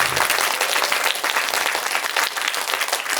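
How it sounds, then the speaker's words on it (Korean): An audience at a Korean mathematics education event gives a big round of applause for two honored staff members, steady dense clapping that stays loud and even throughout with no talking. "책임과 열정이 넘치는 이 두 분에게 큰 박수 주세요"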